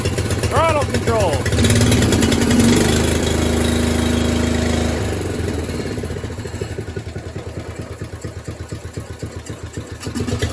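A Craftsman walk-behind lawn mower with a crusty carburetor runs close by. It gives a loud rattling engine note that drops to a rhythmic, chugging idle, while someone talks over it.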